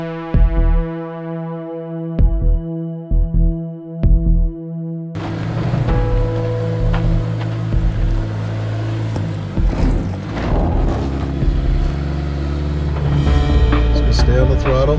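A 2016 Jeep Renegade engine labors up a steep off-road hill, first as a pulsing hum broken by short gaps, then as a loud, rough, continuous strain with clatter and bumps.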